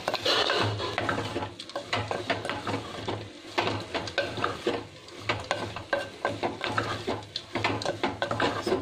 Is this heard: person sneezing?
no